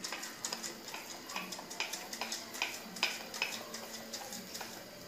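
Cooked chicken being shaken inside a closed pot to shred it, giving a steady run of quick, sharp knocks and rattles against the metal, close and fairly loud, with no talking.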